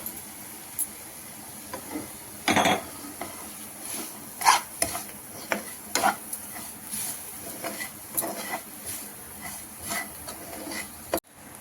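A spoon stirs cardamom powder and fennel powder into a sweet rose petal gulkand mixture, producing repeated close scraping and sticky squelching strokes at an irregular pace, with no talking.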